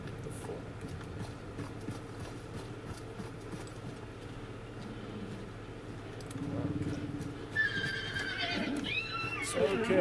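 A horse in a video game lets out a loud, shrill neigh near the end, rising over a steady game background of low rumble and faint movement, with a brief softer whinny just before it.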